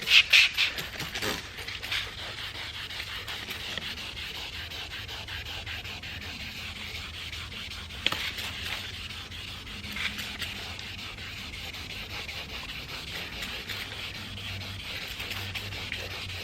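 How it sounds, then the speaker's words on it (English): Sandpaper on a block wet-sands a car's painted surface with a continuous close rubbing swish, steady back-and-forth strokes after a few louder scrapes at the start. "after you sand it for a while"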